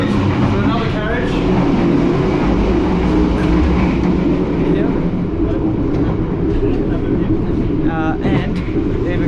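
Inside a moving economy-class train carriage between Jakarta and Yogyakarta, a steady loud rumble and rattle of the rails with people talking over it.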